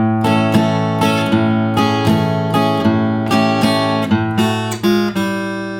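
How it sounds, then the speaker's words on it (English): Guitar plays an old school blues riff, loud and close, with rhythmic plucked notes, double stops and ringing open strings repeating in a steady pattern, no talking. "All right, put that last riff together"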